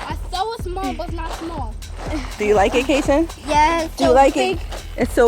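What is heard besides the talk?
No everyday noise stands out behind the speech.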